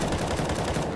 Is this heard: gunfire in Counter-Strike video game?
yes